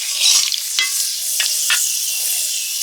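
Taro stolons fry in hot oil with black cumin, giving a steady close sizzle with a few brief stirring scrapes and knocks.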